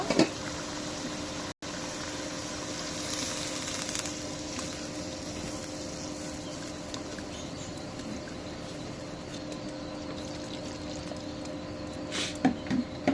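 Rohu fish curry simmering in a pot after broth is poured in, a steady bubbling boil with faint sizzle and hiss throughout, no talk, a brief dropout early on.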